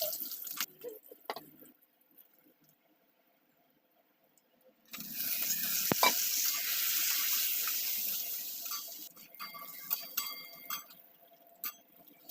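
Cumin seeds hit hot oil for tempering: after a few seconds of near-quiet, a sudden bright sizzle bursts up and holds steadily, then thins into scattered crackles toward the end.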